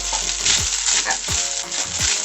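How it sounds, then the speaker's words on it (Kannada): Grated fresh coconut fries in melted ghee for coconut modak, a loud, steady sizzle close up, broken by a few soft scraping stirs of a spatula. "ತೆಂಗಿನಕಾಯ್ದು ಹಸಿ ವಾಸನೆ ಹೋಗಬೇಕು, ಅಲ್ಲಿ ಗಂಟ ಫ್ರೈ ಮಾಡ್ಕೊಬೇಕು."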